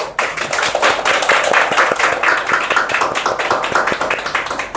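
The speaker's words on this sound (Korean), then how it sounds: "중간에 박수 한번 친 거고, 그지?" Listeners at a Bible lecture clap together, a close round of fairly loud, uneven hand claps with distinct sharp slaps, while a few voices murmur underneath.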